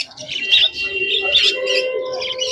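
Budgerigars in cages at a bustling pet market chirp and twitter in close, continuous overlapping calls, fairly loud, with faint voices in the background.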